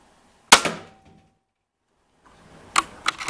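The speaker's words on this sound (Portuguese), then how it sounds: "Eu vou atirar no pé dela para que ela gire pro lado contrário." A Hatsan BT 65 Elite air rifle fires at night: one sharp crack, a quiet pause, then a second shot followed by a quick metallic clatter, all close and crisp.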